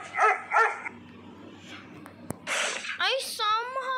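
Dog barks in a Roblox game, two loud yelps near the start, then a sharp hit and whimpering, whining dog cries toward the end, with game noise underneath.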